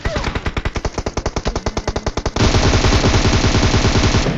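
Rapid automatic gunfire from an enemy player in a battle-royale shooter, loud and close: a steady rattling burst of evenly spaced shots that then blurs into a denser, continuous roar of fire.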